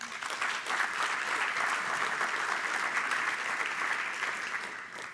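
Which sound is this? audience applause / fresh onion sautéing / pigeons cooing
audience applause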